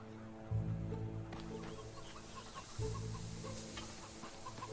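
Chickens cluck in the Fable III game world, two bursts of low clucking near the start and midway over a steady bed of background game ambience, with no talk.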